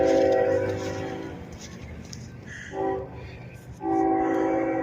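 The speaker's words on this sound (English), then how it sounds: "I hear a train blowing." A train horn blows in long, sustained tones, the last blast louder and nearer, with a rumbling background.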